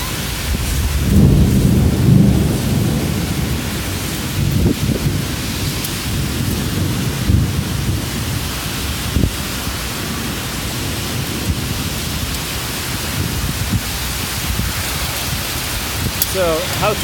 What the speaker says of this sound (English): So, how typical of a storm is this for you guys?